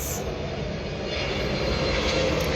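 A fixed-wing airplane passing overhead, a loud continuous engine roar that swells slightly as it goes by, with no one talking.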